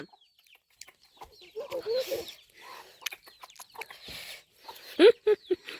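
A hen guarding her chicks gives a few short, soft clucks in quick succession near the end, after quieter rustling and faint murmuring voices.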